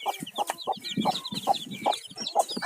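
Native country chickens kept on a poultry-rearing farm cluck close by in quick, repeated calls with a steady rhythm.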